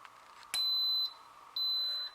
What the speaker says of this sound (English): it just beeped that it is done cooking